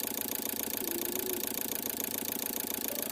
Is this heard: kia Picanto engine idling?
yes